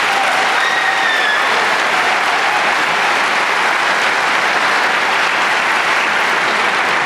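A large crowd at a high school graduation commencement claps loudly and steadily for scholarship students, a dense even roar of applause with no talking.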